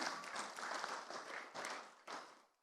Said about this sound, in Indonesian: Tepuk tangan Pak Irjen dulu loh.